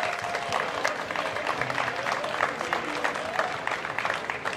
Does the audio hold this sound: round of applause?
yes